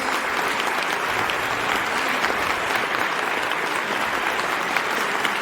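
A crowd applauds at a talk on a water crisis, dense, steady clapping filling the whole stretch without a break.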